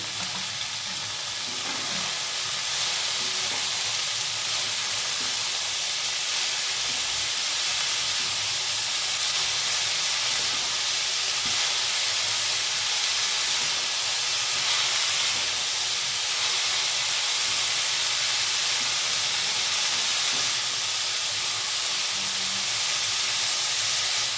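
Cabbage cooking under a lid in a pan, releasing a steady, even steam hiss and soft sizzle that continues unbroken and close throughout, with no talking.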